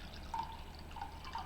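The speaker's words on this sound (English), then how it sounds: "I'm going to transfer the water from this cup" Water poured from one cup into another, faint soft dripping and splashing with a few brief liquid plinks in a quiet room.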